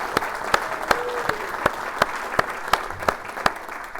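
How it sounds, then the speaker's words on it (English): Scattered, sparse clapping of a small group at a meeting, about a dozen distinct claps at a fairly even pace, faint against a quiet room. "So I want a round of applause for Liz."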